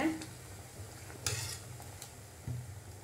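Soft scraping and clinking of a spoon stirring tomato sambar in a pot, with a gentle bubbling simmer underneath and a few louder scrapes.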